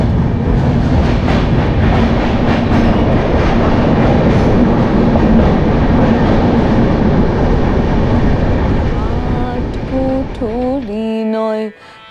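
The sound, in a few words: train leaving Bardhaman station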